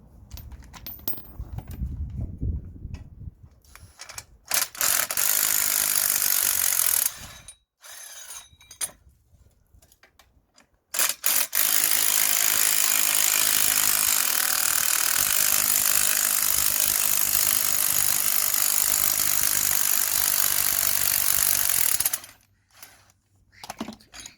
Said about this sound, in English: So now I'm gonna release the clamps.